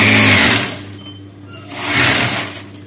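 A sewing machine stitches a blouse, its close, steady whir over a low motor hum easing midway and then swelling back to full speed.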